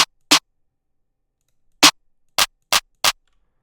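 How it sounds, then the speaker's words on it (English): Layered snare and clap drum samples struck one at a time: six crisp, loud hits separated by dead silence, first a close pair, then a long gap, then four in quick succession. "Then I layered a snare and a clap together."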